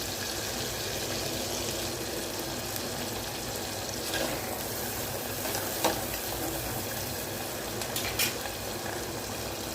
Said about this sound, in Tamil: அதுவும் நல்லா வதக்கி கொடுக்கலாம்